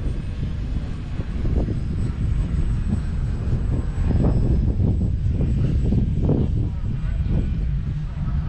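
A handmade Calmato 1500mm foam RC plane's electric motor runs steadily on its maiden flight outing, a continuous loud whir with a rumbling low end and a thin high whine, while people talk nearby.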